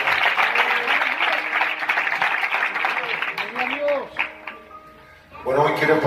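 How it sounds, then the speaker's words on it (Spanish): A congregation in a church in Bernis claps for the Lord, a lively burst of applause that fades after about four seconds as a voice takes over. "Un aplauso al Señor."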